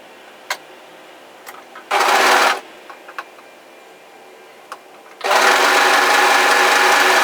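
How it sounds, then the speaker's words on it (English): Overlocker serging across the shoulder seam of a fitted tee, two loud whirring runs, a short one and then a longer one, with small clicks and handling taps between them. "overlock across that shoulder line"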